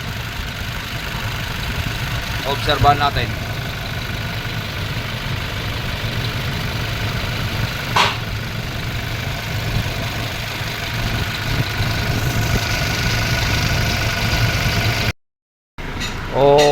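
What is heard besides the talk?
Toyota Innova engine idling after repair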